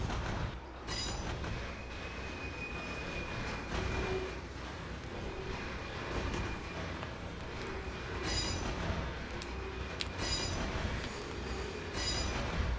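Rail-sim train wheels from Trainz TRS22, with new track sounds, roll steadily over the track, giving a continuous low rumble with occasional sharp clicks and faint squeals as cars pass over joints.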